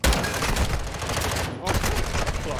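Dense rapid gunfire from a video game shootout roars close and loud in sustained bursts, breaking off for an instant partway through before resuming.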